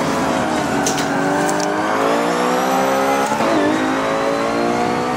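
Ford and Ferrari race cars roar through a Forza 7 video game race, engines revving in steady harmonic whine with shifting pitch, a brief tire squeal midway, loud and continuous without talk.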